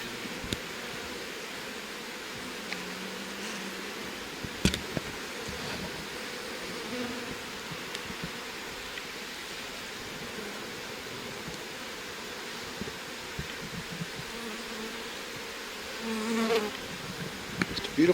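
Honey bees swarm around an opened hive during a post-winter inspection, their dense, steady buzz hanging close and continuous throughout with no voices, broken only by a few faint knocks and rustles of handling.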